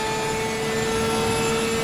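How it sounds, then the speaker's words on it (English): Race car engine in a racing simulator video game, a loud, sustained high whine with steady tonal harmonics, held at constant pitch as if cruising flat-out down a long straight. "Listen to the sound of the engine in this."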